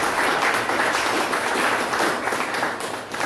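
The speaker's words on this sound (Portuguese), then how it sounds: "Aplauda Jesus." Congregation applauding during a Portuguese-language Christian worship service, a dense steady roar of many hands clapping throughout, fairly loud and continuous, easing slightly near the end.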